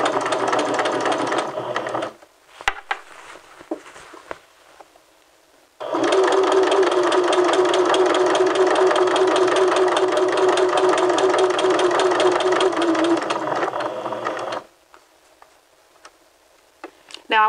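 A home sewing machine runs a long stitch around a dress neck edge. A short burst of motor whir comes first, then a pause with small clicks, then a sustained steady hum of stitching for about nine seconds before stopping.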